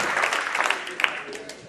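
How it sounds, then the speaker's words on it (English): An audience at a snooker match, the Tour Championship quarter-final, breaks into a short burst of applause that fades quickly, with no commentary over it. "We get a round of applause"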